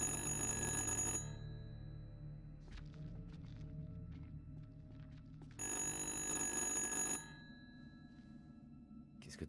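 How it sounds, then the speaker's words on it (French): Telephone in the game Little Hope rings in two loud electric bursts separated by a quiet gap with faint clicks and ambient sounds between them. "Qu'est-ce que c'est? Ah, genre le téléphone."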